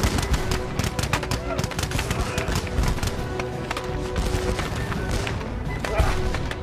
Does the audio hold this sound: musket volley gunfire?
yes